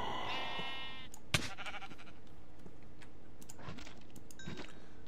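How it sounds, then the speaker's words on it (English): Sheep and goat bleats sound in the video game Minecraft, a few short wavering calls spread across the stretch, with small clicks and clacks between them and no voices. "we are gathered here today to celebrate this goat and this sheep"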